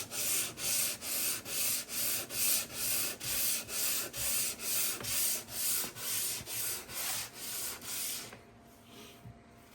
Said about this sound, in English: You'll do this by hand with a sanding block and sandpaper.